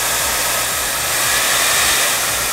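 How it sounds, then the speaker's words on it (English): A hair dryer runs at full blast to melt butter in a kitchen, a loud, even rushing whoosh with a low motor rumble, no talking. "so I thought I could just use the hair dryer again"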